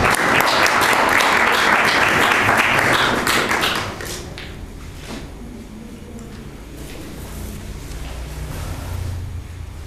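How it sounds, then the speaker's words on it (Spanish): Audience applause at a food sovereignty discussion event, a dense burst of clapping for about four seconds that tapers off into scattered claps and low room murmur. "solamente me queda pedirles un aplauso a ellos"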